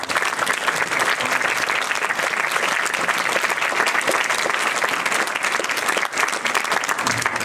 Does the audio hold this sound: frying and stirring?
no